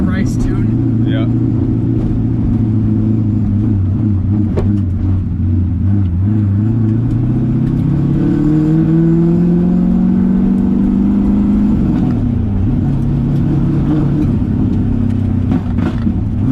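The V8 engine of an LS-swapped Nissan 350Z drift car rumbles loudly up close, its deep idle rising and falling through revs. A voice talks over it throughout.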